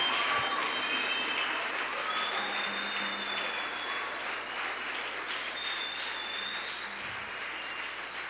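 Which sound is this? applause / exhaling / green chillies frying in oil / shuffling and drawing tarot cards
applause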